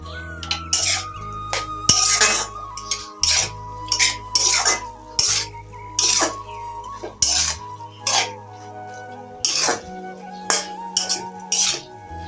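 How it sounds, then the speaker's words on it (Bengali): Shredded cabbage being stirred and sautéed in a pan: a metal utensil repeatedly scrapes and clinks against the pan in bursts, close and fairly loud, with short pauses between strokes. "কিছুক্ষণ ভালো করে কষিয়ে নিচ্ছি।"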